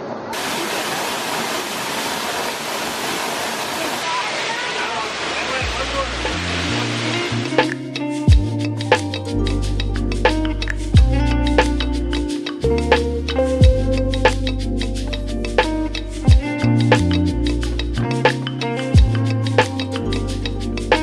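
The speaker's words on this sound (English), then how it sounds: "There's the second waterfall." A waterfall in Puerto Rico roars as steady broadband rushing water, loud and continuous, then gives way to a lower, rhythmic texture with repeated pulses and thumps. No one speaks.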